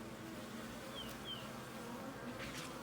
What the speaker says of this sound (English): you can hear the tone of the bees.